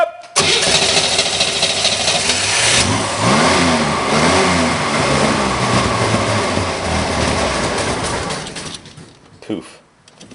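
Chevrolet Monza engine that has run out of gas, cold, cranking and briefly catching with a loud rough roar for several seconds before dying away, close up, with a person's voice over the noise.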